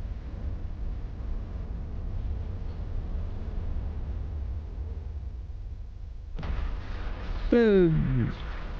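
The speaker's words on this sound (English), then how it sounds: "impressive explosion incoming" An outpost headquarters in the space game EVE Online blows up near the end, a sharp burst with a descending sweep after a long stretch of steady low rumble. Nobody talks over it.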